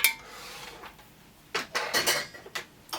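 Metal utensil clinking and scraping against a pot while stirring melting KeraSoy Pillar 4120 soy wax, a soft steady scrape at first, then several sharper close metallic knocks in quick succession.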